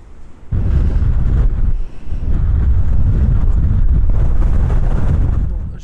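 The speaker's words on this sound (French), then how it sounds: "Mais le vent est très très fort" Very strong wind on the Brittany coast blasting loudly into the microphone in heavy gusts, deep roaring buffets with short lulls, and ocean surf faintly mixed underneath.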